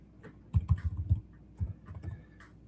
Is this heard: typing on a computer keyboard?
yes